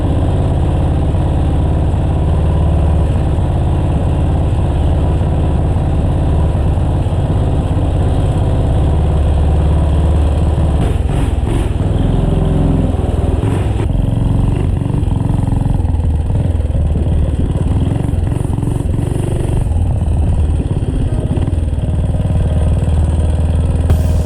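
A methanol-fuelled minibike engine runs loud and steady for the whole stretch, with a rough, clattering idle and uneven throttle swells partway through.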